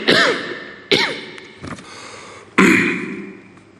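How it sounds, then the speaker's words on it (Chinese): A man coughs and clears his throat during a live televised speech in Shenzhen marking the special economic zone's 40th anniversary, several sharp coughs close up, the longest and loudest near the end. "背后还是能清楚听见他拿水杯咳嗽的声音"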